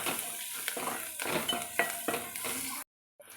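Turmeric is stirred into sizzling oil in a pan while cooking ridge gourd with moong dal, with rhythmic spoon scrapes and clinks over a bright hiss, close up, then abrupt silence near the end.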